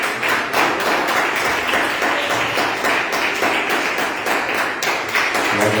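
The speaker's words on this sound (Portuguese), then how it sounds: "as palmas do Senhor" Steady, dense applause from a church congregation, many hands clapping together at an even level for several seconds without letting up.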